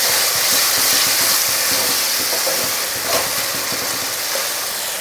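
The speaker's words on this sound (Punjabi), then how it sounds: "ਤਾਂ ਮਸਾਲੇ ਨੂੰ ਆਪਾਂ ਚੰਗੀ ਤਰ੍ਹਾਂ ਭੁੰਨਾਂਗੇ" Masala with chopped tomato, ginger and green chillies frying in a pan, a steady loud sizzle filling the whole stretch with faint stirring knocks and no talk.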